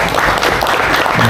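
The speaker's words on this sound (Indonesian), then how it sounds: "Tepuk tangan, tepuk tangan." A gathered crowd claps at a community meeting to honor a newly elected chairman, a brief, loud burst of many hands clapping close by.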